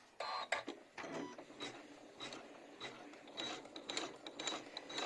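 A Janome MC12000 computerized embroidery machine starts moving, its hoop mechanism whirring and clicking in quick, ratcheting bursts close by, running on alone without talking.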